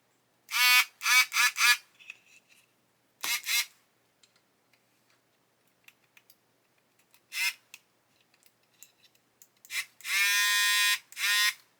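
A small electric motor in a Hachette Avro Lancaster B.III Dambuster model kit strains in short, loud, high whining bursts, several in quick succession, then a longer final run, separated by near silence.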